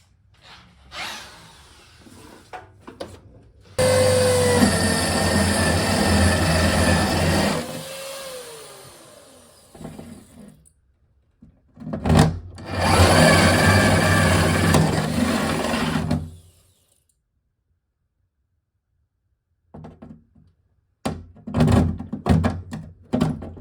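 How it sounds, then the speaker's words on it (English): A power drill bores through a car body from the inside in loud whirring bursts, separated by pauses and thunks, with a short tool noise at the end. "so I'm going to drill it from the inside"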